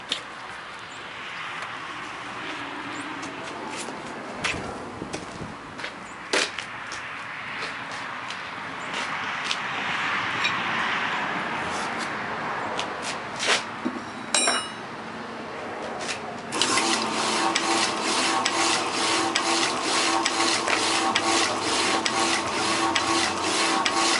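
A Marvel No.2 draw cut saw at the Elwood Ordnance Plant cutting through a square workpiece, giving a continuous rasping, grinding machine drone with scattered clicks and knocks that turns louder and harsher toward the end, close, with no voices.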